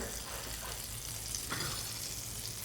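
Peaches soften in melted butter in a pan, giving a faint, steady low sizzle with soft stirring from a flat wooden spatula, fairly quiet throughout.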